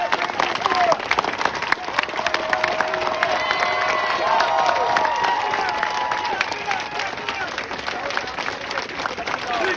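A large protest crowd claps and cheers continuously, dense and loud, with scattered shouts rising through the applause.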